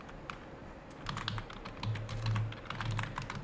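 Rapid typing on a computer keyboard, a steady stream of close, crisp key clicks over a low background hum.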